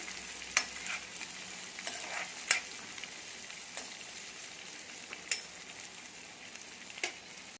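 Onion cooks in a pan with spinach, a soft sizzle under several sharp scrapes and clinks of a spoon stirring against the pan at irregular intervals.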